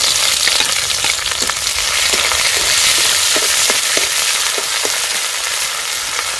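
Chopped onion is frying loudly in hot oil with cumin seeds, a dense, close, continuous sizzle with small pops and scrapes, and no voices over it.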